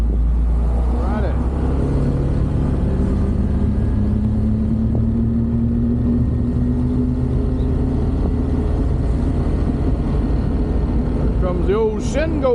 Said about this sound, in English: Here comes the old Shenandoah bus.